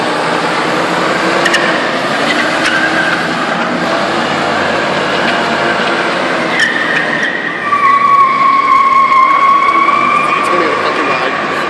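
Pickup truck drifting with tires skidding, a continuous loud rough screech with a rising squeal tone in the second half, while people talk faintly underneath.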